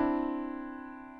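A piano imitating a grandfather clock's bells all ringing together: one loud, dense cluster of notes struck at once and left to ring and slowly fade, close and alone.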